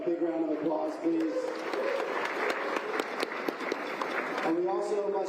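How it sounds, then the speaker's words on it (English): A crowd at a skyrace event village applauds in a sustained broadband patter, with talk and cheering voices layered over the clapping at the start and end. "Let's give them a big round of applause"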